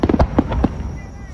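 Fireworks bursting at the Kisarazu display in Japan, a rapid series of loud booms and crackling pops in the first second, then fading into a quieter rumbling tail with crowd noise.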